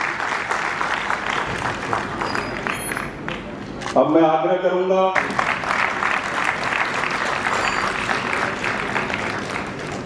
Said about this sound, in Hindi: उन्हें एक बार जोरदार तालियों के साथ स्वागत करें